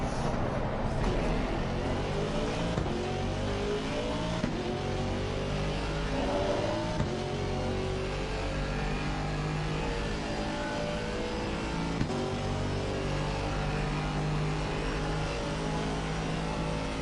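Mercedes-AMG GT4 race car engine in a racing video game at COTA, a steady droning engine note with rising and falling pitch sweeps through gear changes, loud and continuous throughout.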